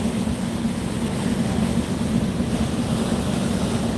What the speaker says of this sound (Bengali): রফরফ সাত লঞ্চ কিছুটা স্লো করে দিয়েছে